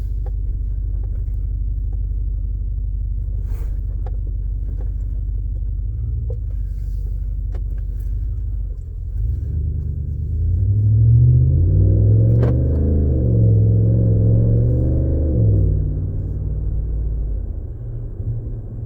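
Exhaust of a 2019 Ram 1500 with a 5.7 HEMI V8 and a Solo MR 300 muffler delete, idling with a deep steady rumble before swelling into a louder, throaty rev that settles back to idle.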